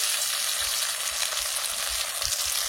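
Chopped tomato hisses into hot oil with onion and black cumin in a frying pan, a dense, continuous sizzle heard close and fairly loud with no voices.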